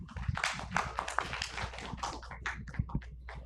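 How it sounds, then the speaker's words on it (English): An audience claps for a professor after his talk at a medical symposium on ascites: a short burst of scattered clapping that stays fairly even for a few seconds, with no voices over it. "And a big clap for Professor Birendra."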